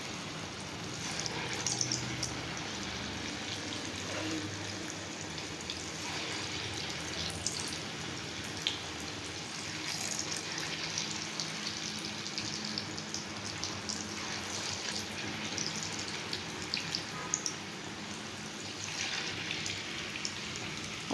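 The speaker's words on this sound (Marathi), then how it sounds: "तेल गरम झालं की याच्यात हातानेच अशी भजी घालायची" Rice flour pakoras (bhaji) frying in hot oil over a medium flame give off a steady, soft sizzle and fine crackle that holds at low level for about twenty seconds, with no talking.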